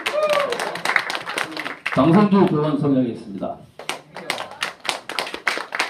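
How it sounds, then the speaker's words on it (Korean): A small group in a Korean agricultural cooperative meeting claps in short bursts of sharp, close hand claps, broken by someone speaking in the middle before more rapid clapping resumes. "박수!"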